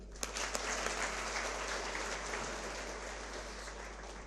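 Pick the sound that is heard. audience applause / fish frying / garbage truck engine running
audience applause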